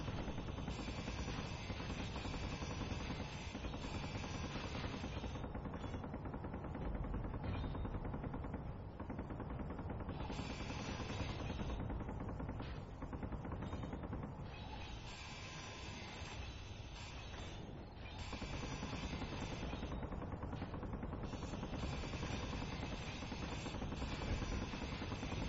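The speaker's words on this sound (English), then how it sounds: "Rat-a-tat-tat of the guns." Continuous machine gun fire in the Space Engineers game, a steady rattling roar that runs for the whole stretch with slight surges and dips, heavy and unbroken.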